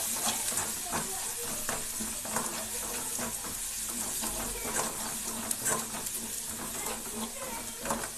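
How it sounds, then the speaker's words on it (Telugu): Ginger garlic paste fries with browned onions in hot oil for liver fry, giving a steady close sizzle and hiss with scattered crackles and pops throughout, no voices. "ఇప్పుడు అల్లం వెల్లుల్లి పేస్ట్ వేసుకుందాం. ఈ అల్లం వెల్లుల్లి పేస్ట్ మనకు పచ్చి వాసన పోయేంత వరకు వేగనివ్వాలి."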